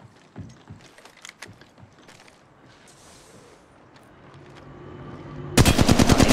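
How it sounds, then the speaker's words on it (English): Gunfire in the Apex Legends video game: scattered faint shots and distant firing build quietly, then a loud rapid burst of automatic fire breaks out close by at the end. "Shots fired at me. Getting shot at."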